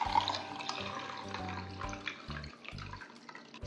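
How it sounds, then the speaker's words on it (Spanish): Hot herbal tea is strained and poured into a cup, giving a steady close trickle of liquid that thins toward the end. "Sirve el té en una taza."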